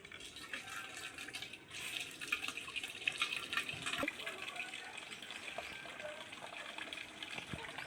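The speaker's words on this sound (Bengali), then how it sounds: "মাংসটা ধুতে চলে এসেছি" Water runs and splashes while raw chicken meat is washed in a village home, a faint steady gush with occasional soft spatters and knocks, and no voices over it.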